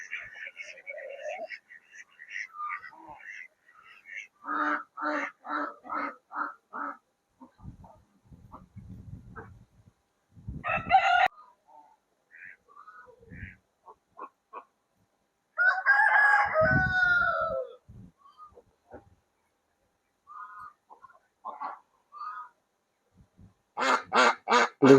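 Ducks quack among chickens and crowing roosters at a farm science centre in Jagatsinghpur, with several loud bursts of rapid repeated calls separated by quieter gaps.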